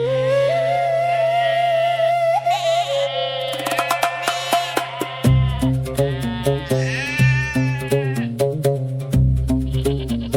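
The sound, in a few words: flock of sheep bleating on farm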